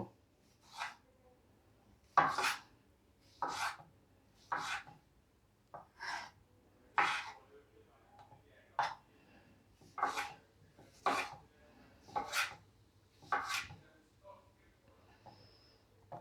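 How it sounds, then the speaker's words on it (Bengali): A knife cuts tomatoes into small cubes for a Bengali potato curry, making about a dozen crisp, separate chops on a board at an irregular pace, close and fairly quiet in an otherwise still room. "টমেটোগুলোকেও ডুম করেই কেটে নেব।"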